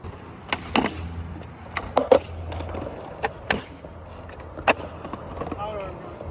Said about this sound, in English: His wheels are so soft, they like grunt when he power slides.